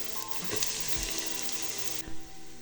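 Grated carrot is tipped into onions already frying in a pan for soup, giving a steady, close sizzle and crackle of hot oil that carries through the whole short stretch with no talking.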